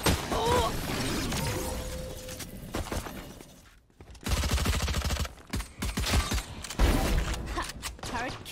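Automated turret gunfire in the video game Valorant: rapid bursts of shots and sharp impact cracks, loud and close, with a short lull midway before the firing resumes.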